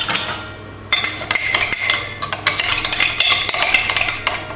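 Beetroot salad with half a lemon squeezed in being mixed in a bowl, giving repeated clinks and scrapes of a utensil against the dish, close and fairly loud, with no talking.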